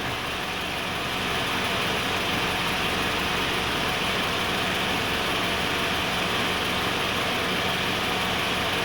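A Toyota Camry engine idles with the air conditioning on and the engine shaking, making a steady, continuous hum with a low rumble and broad hiss, unchanging throughout with no voices.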